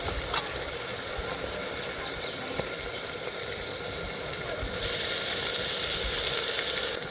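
Ghee-free pan frying of ground coriander-cumin paste with ginger-garlic-chilli paste and spices for ghugni, a steady close sizzle with faint stirring scrapes throughout, no voices.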